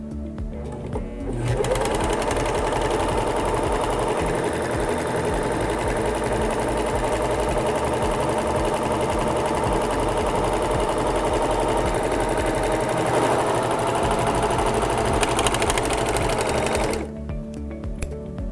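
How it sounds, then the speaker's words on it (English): A SINGER S0230 serger sews a two-thread rolled hem on chiffon, a steady, loud mechanical whir that runs without a break for about fifteen seconds and then stops. "And now we have a piece of chiffon, and we're going to sew the rolled hem."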